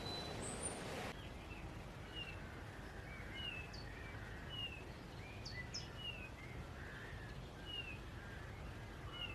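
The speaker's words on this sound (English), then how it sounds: "I'm just listening to the birds" Birds sing outdoors along a rural nature trail, a scatter of high chirps and short whistled phrases at moderate distance over a steady ambient hiss, with a brief burst of broadband noise at the very start.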